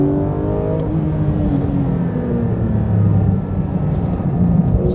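A sports car's engine revs hard on the move, loud and near, its pitch sweeping up and down through gear changes over a constant road roar.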